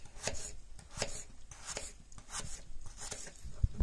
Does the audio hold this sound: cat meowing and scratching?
no